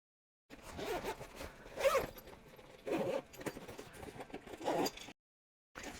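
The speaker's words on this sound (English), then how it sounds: "So you got to bring the zippers around" Zippers on a travel organizer bag with a combination lock are dragged around its edges, giving several close scratchy zipping bursts with short pauses between them, and no one talking.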